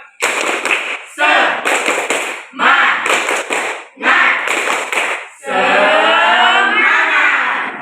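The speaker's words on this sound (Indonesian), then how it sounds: "kita tepuk semangat dulu" A classroom of students performs a rhythmic 'tepuk semangat' spirit-clapping chant: bursts of loud, close group clapping and shouted voices in a patterned rhythm, ending in a sustained collective shout.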